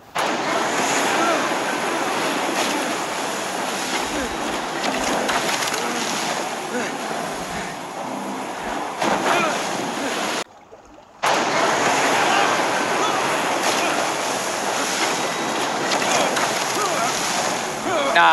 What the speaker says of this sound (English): At least the boat's moving.